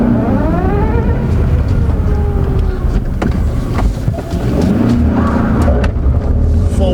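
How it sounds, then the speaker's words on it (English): A 2004 Honda CR-V spins all four wheels, its engine roaring loudly and continuously up close with rising and falling whine over rough, dense road and tire noise. "Four-wheel spin there."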